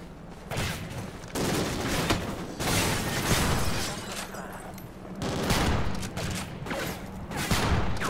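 Sustained bursts of automatic gunfire in the Call of Duty: Ghosts video game, loud and dense with brief gaps between volleys, no talk.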